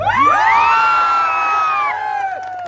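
A large crowd at a direct selling event breaks into loud, close cheering, several voices whooping and shouting together in a sustained rising-and-falling roar for about two seconds before easing off.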